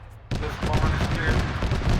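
Gunfire crackles through a milsim field exercise in a steady, dense run of shots after a quieter start, with voices mixed in underneath.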